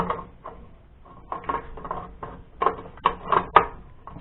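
Vending machine mechanism sliding back into place at the top of the machine, giving a quick run of soft metallic clicks and ratcheting knocks that grow louder toward the end, close up with no talking.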